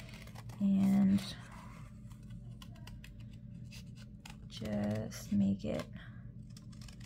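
Scissors snip around a printed image on paper in two short bursts, close and crisp, with a soft voice speaking between the cuts.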